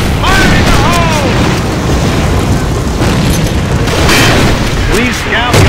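A grenade explosion in the shooter game A.V.A, a loud booming blast with rumbling aftermath, mixed with radio-style voice chatter and other game noise.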